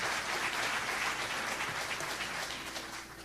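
Audience applause at a live Peruvian music show, a dense steady wash of clapping that holds for a few seconds and begins to fade at the end.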